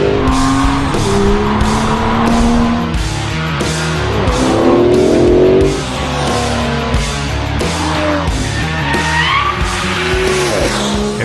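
Turbocharged engine of an Aston Martin DB11 prototype accelerating hard on a race track, loud and close, with pitch rising through the gears and tires squealing and skidding in between.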